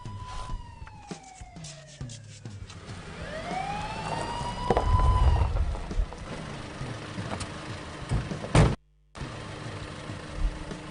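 A siren wails with rising and falling tones over engine rumble, then cuts out abruptly near the end before traffic noise resumes.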